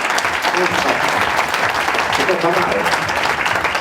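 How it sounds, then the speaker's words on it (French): Audience applause at an Ignite evening talk, steady dense clapping filling the room throughout, with a voice speaking briefly over it. "Applaudissements."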